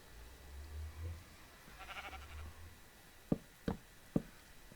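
Sheep bleating in the Minecraft modpack All The Mods 3: one wavering bleat at moderate distance, followed by a few sharp knocks, with no talk.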